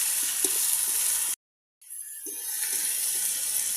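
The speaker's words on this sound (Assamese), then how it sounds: "আদা নহৰু জলকীয়া গোটেইখিনি এতিয়া মই ইয়াতে দি দিছোঁ।" Ginger, garlic and chili paste sizzles in hot oil with a steady broadband crackle, broken by a brief silent gap and then resuming with soft stirring knocks.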